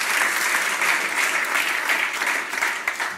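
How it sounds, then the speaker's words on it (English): An audience claps to welcome a speaker onto the stage at a tech talk, a dense steady round of applause that fills the whole moment at close range. "So give her a very big applause and a warm welcome, Michaela"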